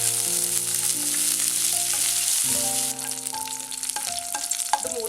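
Cashews, onions and raisins fry in hot ghee with a steady, soft sizzling hiss, accompanied by gentle tonal music in the background.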